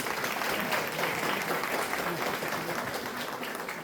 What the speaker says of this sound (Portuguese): Nós estamos de palmas novamente